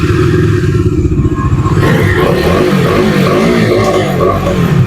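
Bajaj Dominar motorcycle engine running loud and close, a steady rumbling idle that swells as the throttle is blipped, with mechanical clatter throughout.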